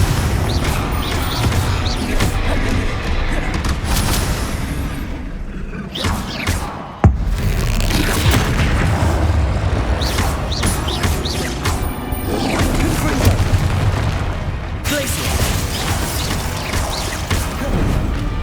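Confringo fire spells cast in Hogwarts Legacy, loud and dense, with crashing blasts, booms and thuds layered over game music and effects, and a sharp impact partway through.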